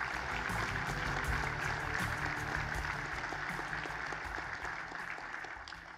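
Dense, sustained audience applause fills an awards ceremony hall at a meteorology society annual meeting, a continuous crowd of clapping hands that slowly fades toward the end.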